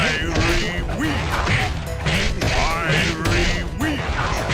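A firework attack in the PS2 game Sly Cooper and the Thievius Raccoonus sends out repeated loud crashes and bursts in a rhythmic series, mixed with whooshing effects and a character's shouted voice.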